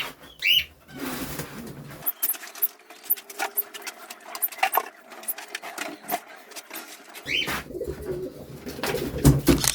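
Pigeons cooing and calling near a cleaned wire loft, soft throaty coos over a steady mechanical hum with scattered clicks and rustling, fairly close and continuous.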